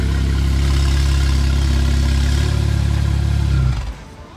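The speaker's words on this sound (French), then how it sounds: "je vois presque jamais des Porsche Turbo avec l'échappement modifié" A Porsche Turbo with a modified, non-original exhaust runs loud and close on a Monaco street, holding a deep, steady rumble for several seconds before it abruptly drops off near the end.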